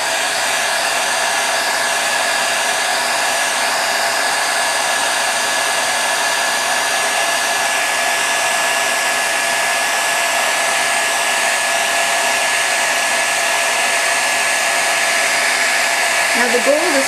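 A heat tool blows a steady, loud whoosh without a break as it melts gold embossing powder on a stamped button, with a small sound at the very end.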